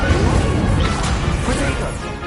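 A loud, crashing burst with a whooshing rush sounds as the Incendio fire spell is cast in the video game Hogwarts Legacy. It fades slightly at the end.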